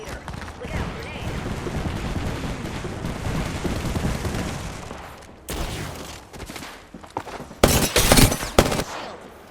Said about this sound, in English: Listen up, I'm getting shot.